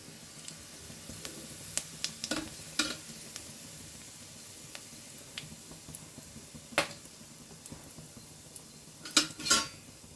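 Whole spices and onion sizzle in hot oil for a Chettinad chicken tempering, with a faint steady hiss behind scattered sharp pops and crackles. Light spoon and pan clinks come through near the end.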